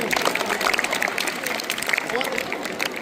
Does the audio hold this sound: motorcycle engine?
no